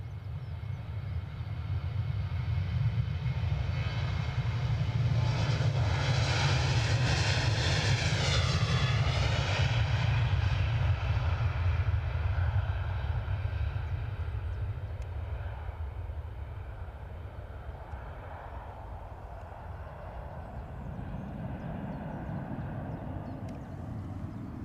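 A Jet2 airliner departs Edinburgh airport with a loud, sustained jet engine roar that swells, shifts in pitch as it passes, then slowly fades into the distance.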